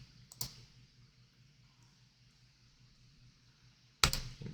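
Computer mouse clicks on feature lines in AutoCAD Civil 3D, one sharp click near the start and a burst of clicking at the end, with a low steady hum between.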